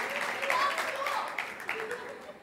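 Audience applause for Heather Ryan at a coach's sports banquet, a steady wash of clapping lasting a couple of seconds at moderate level before fading.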